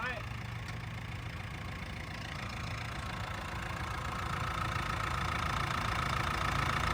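The new turbo diesel engine of a Mahindra ROXOR idles at a dealer display, a steady mid-pitched clatter that grows slightly louder, with people talking nearby.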